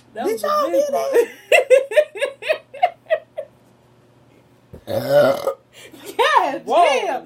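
A woman lets out a long, loud, gurgling burp up close during a burping challenge, with giggling and laughter around it and excited talk from others afterward.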